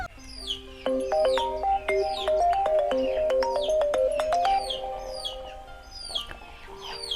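A phone ringtone plays a bright, chirpy melody of rising electronic notes, repeating phrases loudly and close, with no talking over it.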